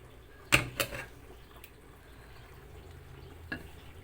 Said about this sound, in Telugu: రొయ్యలు అందులో వేసుకున్నాం కదా, ఇలా గోంగూరలో కలియబెట్టుకోవాలి.